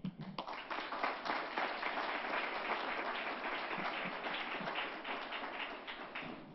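Sustained audience applause fills a room at a public safety forum, steady dense clapping from a crowd lasting throughout with no talk over it.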